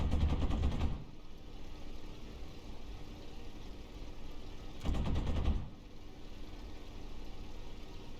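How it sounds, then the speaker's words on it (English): Spitfire machine guns fire in a flight simulator game in two loud rattling bursts of roughly a second each, heard over a steady droning aircraft engine. "Guns sound pretty good. I kind of do like that new gun sound."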